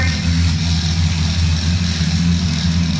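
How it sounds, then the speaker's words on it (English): A brain-controlled car driving forward gives a loud, continuous mechanical hum with a steady low drone, like a motor running at constant speed, and no one speaks over it. "And now the car will run forward."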